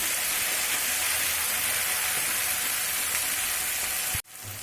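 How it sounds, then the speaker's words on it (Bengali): Spices and turmeric sauté in rendered goat fat for a tadka, producing a loud, even sizzle that holds steady before stopping abruptly near the end, then resuming faintly; nobody speaks. "অল্প একটু হলুদ দেব, দিয়ে ভালোভাবে কষাতে থাকবো।"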